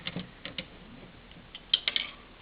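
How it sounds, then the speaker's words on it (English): Tiny screws being worked out from beneath the spindle motor of a Liteon DVD drive from an Xbox 360, giving faint, sparse metallic clicks and ticks up close, with a brighter cluster of clicks near the end. "we're going to take out all 3 of these screws that are underneath the spindle motor."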